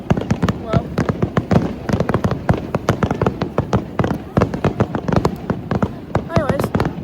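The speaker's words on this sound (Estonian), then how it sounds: "Siin on ilutulestik." Fireworks pop and crackle in rapid, irregular bursts at an outdoor display set to music, sharp reports coming thick and loud, with people talking and exclaiming over them.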